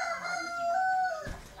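A rooster crows once in a long, clear, loud call at a rural family home that keeps a few chickens, with no talking over it.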